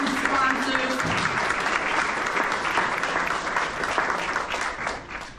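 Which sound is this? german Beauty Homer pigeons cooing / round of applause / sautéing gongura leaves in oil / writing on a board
round of applause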